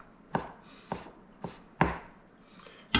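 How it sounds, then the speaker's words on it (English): A knife chopping quarter-inch-thick bacon into small diced slivers on a board: five crisp, close strikes at a fairly steady pace, with soft scraping between them. "So you're just cutting that up into little little slivers, diced."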